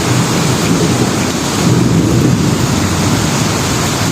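Heavy rain pours in a dense, loud, continuous wash with deep low rumbling like thunder underneath, steady for the whole stretch with no voices.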